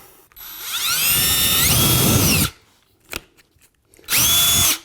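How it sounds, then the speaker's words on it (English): A power drill bores into a wall while a TV mount is installed: a loud, close whine winds up and runs for about two seconds, then stops, followed by a short knock and a second brief burst of drilling. "Let's drill this."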